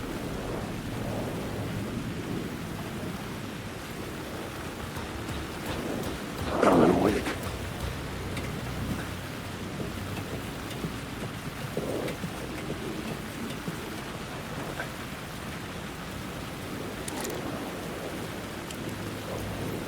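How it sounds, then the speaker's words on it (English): Steady rain and low rumbling thunder fill a stormy night scene in the video game Alan Wake 2, a constant wash with a brief louder swell near the middle. "The rain never stopped falling."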